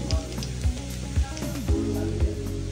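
Red chili powder and cumin sizzling in hot oil for a tempering while mixed vegetable bhaji is cooked, a steady frying hiss broken by about five dull low knocks of a spoon against the pan.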